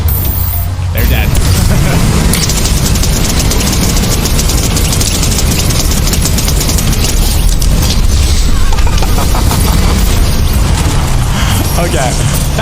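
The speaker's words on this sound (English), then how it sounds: "that is about 100 players, and this is a tank" A tank in Fortnite Battle Royale rumbles loudly and steadily, a dense low engine drone layered with booming blasts that fill the whole stretch without a break.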